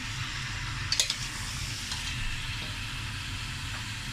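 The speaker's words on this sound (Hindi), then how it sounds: "हम जो है मटन का कलर चेंज करने का इसको ज़रा फ्राई करेंगे।" Mutton fries in a pot for degi-style korma, giving a steady, soft sizzle with a few brief scrapes of stirring, close and even throughout.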